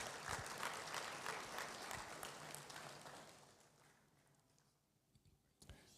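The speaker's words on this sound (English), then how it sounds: "Let's welcome him with a round of applause." Audience at the 11th Ghana Economic Forum 2022 gives a round of applause for a session moderator; quiet clapping that fades away over a few seconds, followed by a brief sharp knock.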